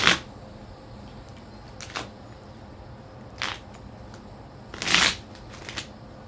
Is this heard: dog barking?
no